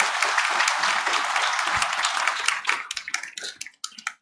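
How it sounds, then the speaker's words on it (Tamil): Applause from a congregation at a Tamil Mass for the Solemnity of Saint Joseph in Paris, given in thanks to Father Albert. Dense, steady clapping fills the room, then thins into scattered individual claps before fading out. "நம்முடைய மனமார்ந்த நன்றியை நம்முடைய கரகோஷத்தின் மூலமாக தெரிவிப்போம்"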